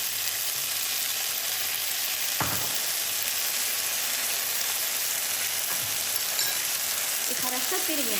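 Steady sizzling of soba noodles with chicken, vegetables and oyster sauce frying in a pan, with occasional scraping and clinks of stirring, close and continuous with no talking.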